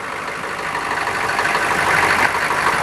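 A K5 Weasel engine on a cold winter start runs at a steady, loud, rough idle throughout, with no voices.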